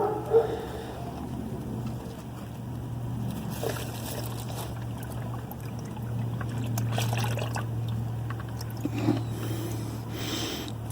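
Transmission fluid poured from a quart bottle into a sealed car transmission, a steady soft trickle running the whole time over a constant low mechanical hum, with no talking.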